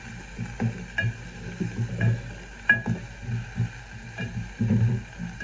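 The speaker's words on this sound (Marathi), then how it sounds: "तेल टाकते मी आणि भाजून जाईल आपला कांदा भाजला जाईल" Onion frying in oil for khar vang, with irregular stirring scrapes and soft clatter over a faint sizzle, close and moderately quiet.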